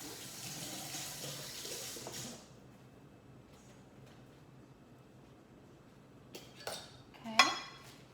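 Kitchen tap water running for washing parsley, a faint steady rush for about two seconds, then quiet with a few light clinks and knocks of kitchenware near the end.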